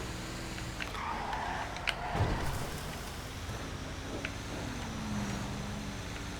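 An apocalypse-style truck driving in GTA 5, a low, steady engine rumble with a brief tire or brake squeal in the middle, fairly faint and without talk.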